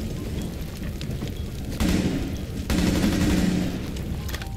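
Gunfire in the shooter Rainbow Six Siege, with a shotgun in play: a dense, steady crackle of shots, plus two heavy louder bursts near the middle, all fairly close.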